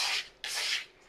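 A spatula scrapes around the sides of a bowl of cookie dough in two distinct rubbing strokes, with a third just starting. The strokes are soft, close and dry-sounding, with no voices.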